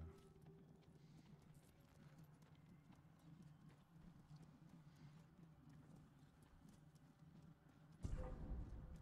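Faint, steady clip-clop of horse hooves in the video game Ghost of Tsushima patters throughout, with a louder thud near the end.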